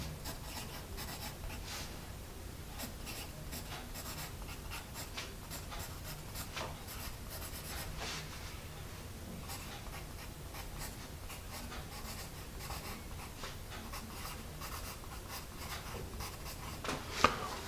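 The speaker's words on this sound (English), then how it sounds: "Let me focus in and see how we like the writing" Apsara Extra Dark pencil writing on paper, a soft steady scratching and rubbing that runs close and quiet through the whole stretch, with a single sharper tap near the end and no voices.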